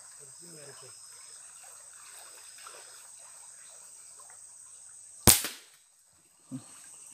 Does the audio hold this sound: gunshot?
yes